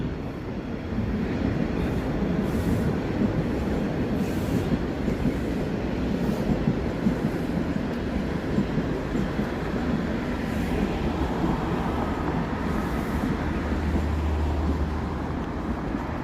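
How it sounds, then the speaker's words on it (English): A train rumbles past steadily for a long stretch in Toronto at sunset, a dense rolling roar with faint rhythmic clatter of wheels on rails. "There's another train."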